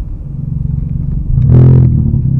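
Car engine revs up through a launch pull with the diffuser switched on, a steady idle rumble swelling into a loud, close surge of rising revs near the middle before settling back to a lower drone.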